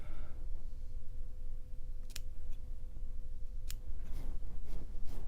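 Curved scissors snip a moustache up close, a few sharp metallic clicks spaced apart, with rapid cutting near the end over a steady low background hum.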